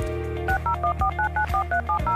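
Touch-tone telephone keypad dialing in a radio station promo: a steady dial tone underneath, then about eight crisp dual-tone beeps in an even rhythm, loud and clear with no talking.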